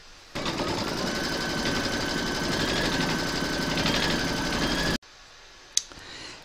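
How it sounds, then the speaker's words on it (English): An embroidery machine in a hoop stitches a placement outline for batting, giving a loud, steady, rapid mechanical rattle for about four and a half seconds before stopping abruptly, followed by a quiet room and a single small click. "Pop your hoop into your machine and stitch round number 1"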